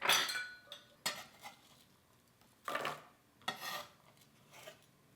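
Small apple chunks being tipped into a pot for apple pie cookies: several separate bursts of clattering and clinking as handfuls land, with quiet gaps between them and no talking.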